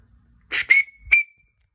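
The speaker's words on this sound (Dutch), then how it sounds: "Dat lijkt op een fluitje" A small 3D-printed plastic whistle gives two short, shrill blasts close by, the second trailing into a thin sustained tone before a third brief toot.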